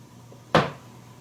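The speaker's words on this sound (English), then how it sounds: "There's a knock right there, right directly in front of me." A single sharp wooden knock sounds out of the quiet inside a haunted brothel, close and fairly loud, with a short decay and nothing else around it.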